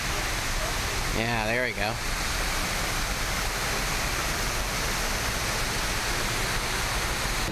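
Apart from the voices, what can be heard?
waterfall at the Rainforest Cafe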